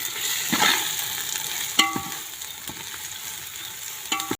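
A spoon stirs turmeric into pulao frying in a pan over a wood-fired stove, giving a steady close sizzle with a few distinct scraping strokes and clinks against the pan.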